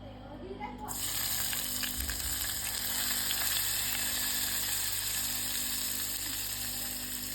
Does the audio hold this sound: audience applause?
no